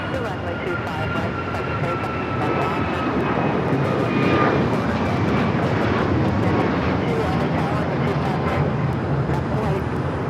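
A United Airlines Boeing 737 MAX 9 takes off at LAX bound for Orlando, a loud sustained engine roar that holds steady throughout, with faint distant traffic beneath.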